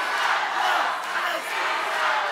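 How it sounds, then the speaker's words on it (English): Crowd cheering and roaring at a live MMA fight during a grappling exchange, a steady, loud wash of many voices that swells and dips slightly over a few seconds. "We got cheers from the crowd"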